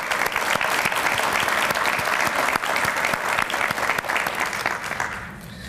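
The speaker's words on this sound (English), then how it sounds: "let's give them a round of applause" Steady applause from a crowd at a police academy graduation, loud and continuous clapping that holds for several seconds before tapering slightly at the end.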